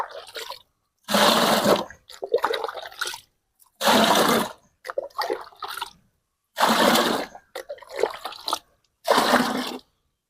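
Water gushes loudly and close by in five or six separate pours, each a second or so long, with short quiet gaps between them, as three litres of water are measured out.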